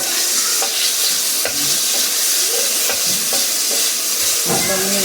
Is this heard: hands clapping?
no